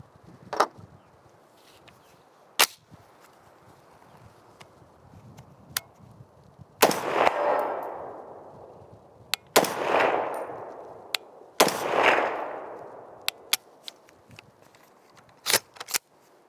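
Ruger SFAR rifle firing Aguila 150 grain full metal jacket ammunition outdoors, several loud close single shots spaced irregularly with ringing decays, plus sharp clicks and handling noises in between.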